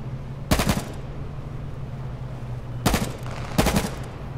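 Gunfire in the video game H1Z1, three sharp bursts of shots spaced a few seconds apart over a low steady background hum, with no talk.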